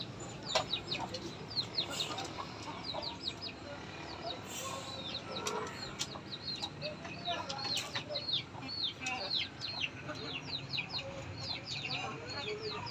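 Chickens cluck and chirp repeatedly in the background, with occasional wing flaps and faint voices, moderately distant over a steady ambient hum.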